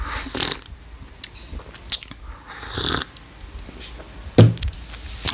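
A person sips coffee close to the microphone, making several short, wet slurps and swallows separated by quiet pauses, with no talk during the sips.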